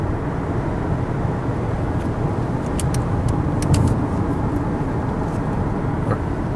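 A car cruises along a Louisiana highway with a steady, loud road and engine rumble throughout, with a few faint clicks over the drone.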